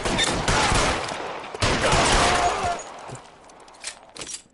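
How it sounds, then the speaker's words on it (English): Gunfire in the game L.A. Noire: dense bursts of rapid shots crackle loudly in two long volleys, then taper into a few scattered, fainter pops. "Who the fuck is shooting me?"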